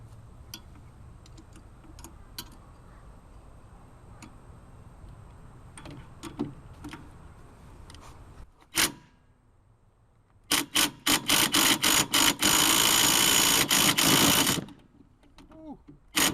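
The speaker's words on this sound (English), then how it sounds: "you want to grab your 16mm wrench" A 16mm ratchet wrench works a crank bolt loose on a BMW E60's N52 engine outdoors, with a dense run of rapid metallic clicks after scattered handling taps and a sharp snap.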